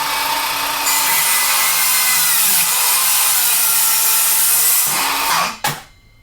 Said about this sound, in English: I'll do a slow cut first, and then a fast cut just to show you the power.